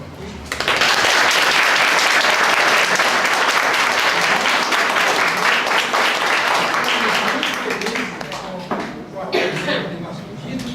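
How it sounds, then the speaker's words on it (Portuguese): A seminar audience applauds, with dense, steady clapping that starts abruptly, holds loud for several seconds, then thins and fades, while a voice speaks over it. "agora eu queria pedir uma salva de palmas para os irmãos aqui"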